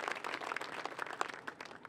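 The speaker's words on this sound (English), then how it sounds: "I think that deserves a round of applause with the arena and all of this" An audience at an outdoor tower lighting ceremony claps in a soft, dense patter of many hands, fairly distant and faint.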